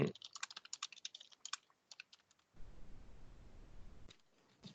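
Rapid, crisp clicks of typing on a computer keyboard run in a quick flurry, then pause behind a low hum before a few final keystrokes.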